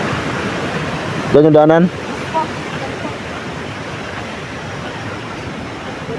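A strong stream rushes as a steady broadband roar through the whole stretch, loud and close, with a voice briefly speaking over it early on.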